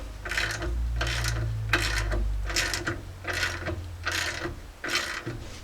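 A stainless steel exhaust band clamp being tightened on a Jeep Cherokee XJ front pipe: about seven evenly spaced bursts of ratcheting clicks, close and fairly loud, over a low rumbling background.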